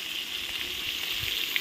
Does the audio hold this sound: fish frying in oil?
yes